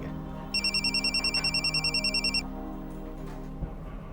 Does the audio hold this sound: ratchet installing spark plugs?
no